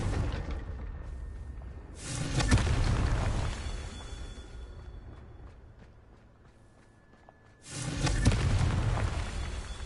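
A Confringo fire spell cast in the Hogwarts video game explodes in two loud, booming blasts several seconds apart, each with a broad rumbling burst that slowly decays into a low ambient wash.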